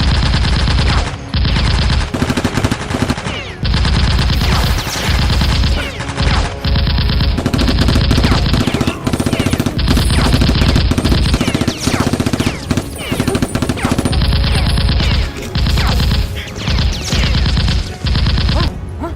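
Nerf guns shooting during a Nerf war, rendered as loud, rapid bursts of machine-gun-style fire that stop and restart in choppy blocks throughout, dominating with no talk.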